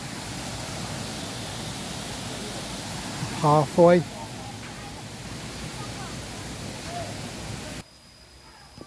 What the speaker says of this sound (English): You see the waterfall through there.